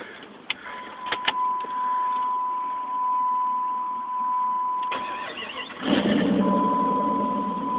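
A 1996 Jeep Grand Cherokee 4x4 V8 runs close by through an exhaust that still has its catalytic converter. It makes a steady, muffled drone with a thin continuous tone over it, a few clicks near the start and a louder surge near the end.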